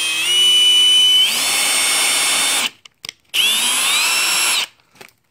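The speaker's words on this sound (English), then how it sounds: "I like this new drill." A cordless power drill whirs loudly in two bursts during a Nissan 350z side skirt install, each run rising in pitch as the bit speeds up, separated by brief clicks and a short pause.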